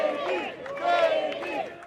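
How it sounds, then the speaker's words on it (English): A small crowd of supporters chants outside a courthouse, rhythmic massed voices rising and falling in waves, fairly close and loud throughout. "David Hearn emerged from the courthouse to a small crowd of supporters chanting his name."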